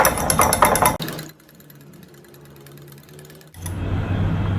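An electric hand mixer whips banana bread batter with a loud, close motor whir, drops to a quieter low hum for a couple of seconds, then surges back to full speed.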